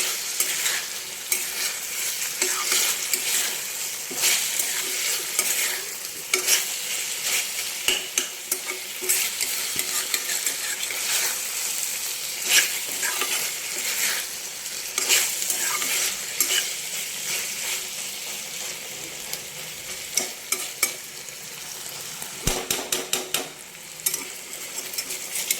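Mutton keema sizzles steadily in a hot pan while a spoon stirs and scrapes it in repeated strokes, a close, busy frying hiss with clinks against the metal and no talking.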